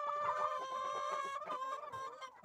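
A rooster gives a drawn-out, strained call, with soft hen clucking underneath, close and clear.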